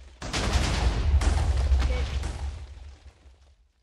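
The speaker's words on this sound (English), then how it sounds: "fire those big guns" Big ship guns fire in the game Alpha Factions, a heavy deep volley booming out for about three seconds with crackling bursts on top before the rumble fades away.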